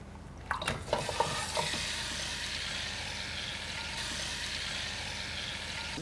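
Marinated chicken for a Mughlai roast hitting a hot pan on the stove, a few clattering knocks at first, then a loud steady sizzle that holds on alone.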